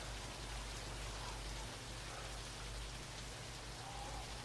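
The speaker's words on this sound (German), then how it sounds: "Warum regnet das eigentlich die ganze Zeit, Alter?" Steady rain in the video game DayZ, a dense even hiss of drops falling continuously with no pauses or other sounds.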